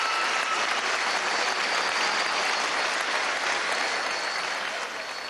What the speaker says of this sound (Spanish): Vamos a darle un aplauso a Alex Saab Moram.